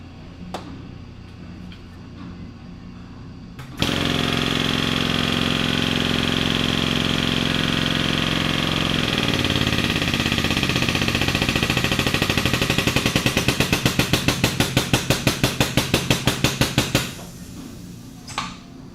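A Parker MiniKrimp hose crimper starts up with a sudden loud motor hum that holds steady, then shifts into fast rhythmic pulsing as it crimps the hose fitting before shutting off, with no talking.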